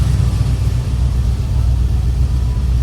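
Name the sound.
LS-swapped BMW E36 engine running after first start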